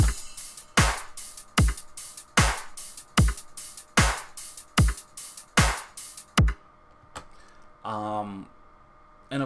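A steady electronic beat, low thumps paired with bright ticking hi-hat strikes in a regular rhythm, stopping abruptly before a short stretch of speech.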